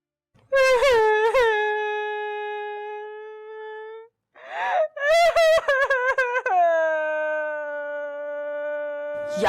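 A woman cries and wails in long, loud, drawn-out moans that rise and fall in pitch, broken by sharp gasping sobs, in a Pakistani drama scene.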